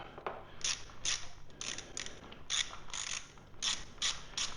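Repeated rapid ratchet clicks come in short bursts, close and fairly quiet, as bolts get a first tightening on an Acerbis Rally Brush handguard fitted to a Yamaha MT450 motorcycle.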